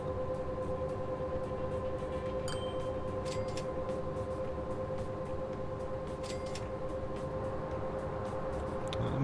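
A train runs in the railway simulation game Train Fever, with a steady rumbling, droning rail noise, a sustained tonal hum and occasional clicks, even and moderately loud throughout, with no voices.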